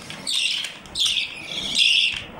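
Adult parrots in a breeding aviary give harsh, raspy squawks, three drawn-out calls in quick succession at moderate loudness over faint background noise, with no talk.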